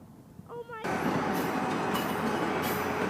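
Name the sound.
train leaving North Station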